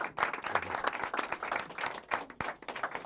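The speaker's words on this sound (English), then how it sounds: "how about a big warm round of applause for Mr." Jazz club audience giving a warm round of applause for a tenor saxophonist, dense clapping that swells and dips in waves, fairly close and loud.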